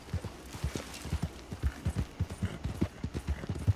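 A mare's hooves clip-clop in a steady, brisk rhythm in a video game, close and clear, with no voices over them.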